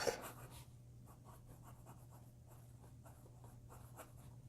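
Jinhao 51A fountain pen with a smooth handmade nib writing on paper, a faint, soft scratching in short repeated strokes at a steady rhythm over a low background hum.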